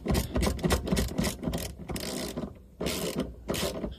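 A ratchet wrench clicks in quick, uneven bursts while tightening the black ground lead terminal on a battery during a dual-battery install in a Toyota Prado 250, close and fairly loud with short pauses between strokes.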